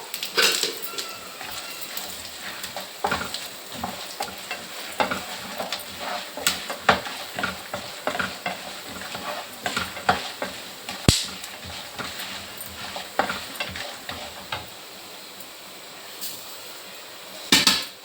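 Cumin, coriander seeds, chana dal and urad dal dry roasting with peanuts in a pan for cucumber chutney: a spoon keeps clinking and scraping against the metal in close, irregular taps and rattles, with no talk.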